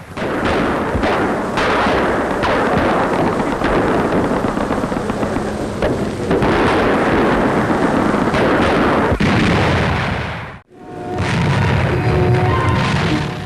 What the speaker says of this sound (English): a heavy night bombardment was the prelude to the attack on Hollandia in New Guinea